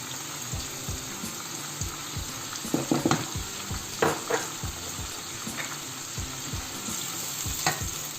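Garlic and ginger sizzle in hot oil with browned onions in a pan for chicken pulao, a steady close crackle broken by several spoon scrapes and clinks, with no talking.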